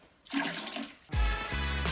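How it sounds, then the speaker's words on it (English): A toilet at an Everest base camp lodge flushes up close. A short hiss of water comes first, then a louder rushing surge with a deep gurgling rumble that keeps draining. "This is how you have to flush the toilet."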